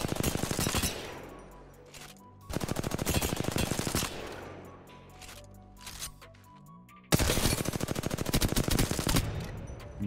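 Automatic gunfire in Apex Legends aim practice, several rapid bursts of crisp shots separated by short pauses, loud and close with no voices.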